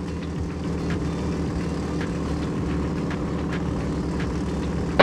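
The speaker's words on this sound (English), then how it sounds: "I love the sound of these airplanes." A 1944 SNJ-5 trainer's radial engine and propeller drone steadily at climb power just after gear retraction, a loud, even, throbbing roar heard from inside the aircraft with no talk.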